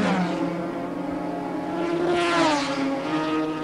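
A racing motorcycle from 1988 British Superbike racing flicks through a chicane, its engine note rising and falling steadily as it shifts and revs, loud and continuous throughout.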